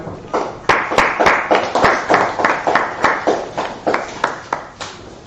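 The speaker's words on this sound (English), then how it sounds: "Let's clap it up, everybody." A class audience claps together in a room, a steady run of loud, sharp hand claps that fades toward the end with some scattered claps.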